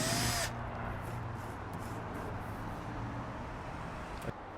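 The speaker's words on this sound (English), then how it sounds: "we're going to drill our holes now" Power drill boring holes into a kayak hull to fit a pod adapter, a steady continuous whir with a brief louder burst at the start and a small knock near the end.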